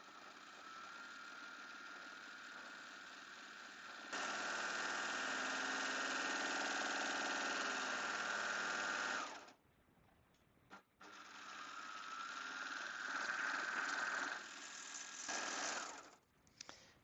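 Baby Lock Acclaim serger stitching through fabric, a steady close whirring run that speeds up partway, stops abruptly, then resumes for another long burst before halting with a few brief taps.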